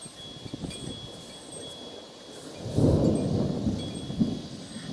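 Distant thunder from a lightning strike in a Texas storm swells into a deep, broad rumble partway through, rising over a steady outdoor wash of wind and background hiss, then rolling on with a few lingering bumps.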